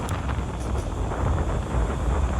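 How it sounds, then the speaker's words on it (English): Strong wind blows outdoors, buffeting the microphone in a loud, constant roar and rumble that runs throughout with no talking. "very windy here. Very windy."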